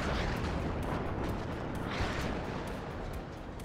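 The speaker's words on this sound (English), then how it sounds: "Another grad firing at this corner." Grad rocket artillery fires in a war video game, a dense, loud, continuous roar of launches and rumbling blasts with a few sharper cracks, no voices.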